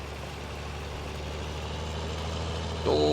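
A farm vehicle engine in the Farming Simulator video game drones at a steady low idle, then revs up sharply near the end into a louder, higher whine, with no talking.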